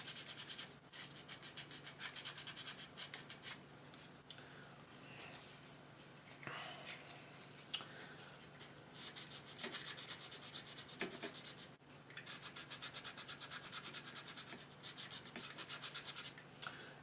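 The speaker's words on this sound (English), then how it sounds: "Just a blank area on the wing is getting a pass with a sandpaper." Sandpaper lightly roughens a blank area on a plastic wing of a 1990 Blue Squadron X-Wing model kit, producing soft, close rasping strokes in steady rhythmic bursts with brief pauses between passes.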